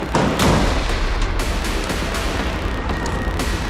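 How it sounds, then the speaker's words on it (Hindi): Rapid gunfire from Israeli soldiers firing on buildings in Gaza, a dense string of sharp cracks and booms in quick succession, loud and continuous throughout. "इमारतों में छुपे हमास के लड़ाकों पर इजराइल डिफेंस फोर्स के जवानों ने ताबड़तोड़ फायरिंग कर दहला दी"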